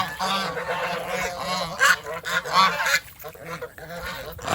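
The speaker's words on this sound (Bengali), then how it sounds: "সবাই চেঁচামেচি চেঁচামেচি করতেছে মানে আসলে রাজা হাসের এই দলবদ্ধতা খুবই ভালো লাগে" Many king geese honk together in a noisy, overlapping chorus, loud and near, with a few sharper calls standing out.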